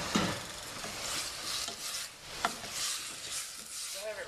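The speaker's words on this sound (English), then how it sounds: "stir it round." Tomatoes being stirred into a chutney in a pan, with repeated soft scraping and rubbing strokes over a low steady sizzle, close and fairly quiet.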